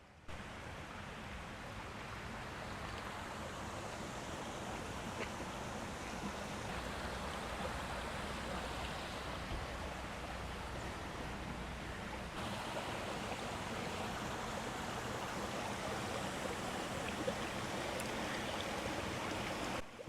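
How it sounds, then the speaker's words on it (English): Water runs steadily over rocks in a stream at the Morikami Japanese Garden in Florida, a dense, even rushing wash heard up close and continuous for the whole stretch. "Reminds me of a stream flowing out of the mountains."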